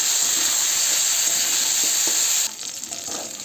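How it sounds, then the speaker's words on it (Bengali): Potatoes, onions and slit green chillies fry in a pan with salt and turmeric, giving a loud, steady sizzle that drops abruptly to a softer crackle partway through. "এবার একটু ভেজে নেব আলু পেঁয়াজ আর লঙ্কাটা"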